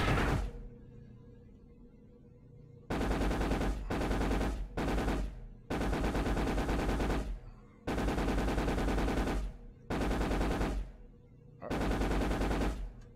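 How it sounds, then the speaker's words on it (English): Enemy gunfire in the Exodus of Sol space combat game: loud, dense automatic bursts of several seconds each, separated by short gaps, six or seven volleys in all with no talk. "we got somebody shooting at us"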